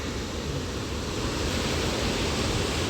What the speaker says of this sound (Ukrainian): Хвилі великі